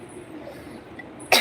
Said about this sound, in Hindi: खांसी तो अपने आप इस समय आ रही है